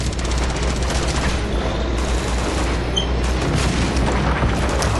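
Booming RPG blasts and gunfire in an Uncharted 2 firefight, with rockets coming from a tank and enemy soldiers; a dense, steady wall of loud explosions and shooting rolls on for the whole stretch without a break.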